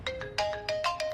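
A mobile phone ringtone sounds for an incoming call in a Hindi-dubbed South Indian film scene: a bright, clear melodic jingle of quick repeating notes, close and alone.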